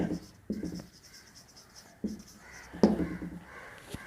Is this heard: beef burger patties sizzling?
no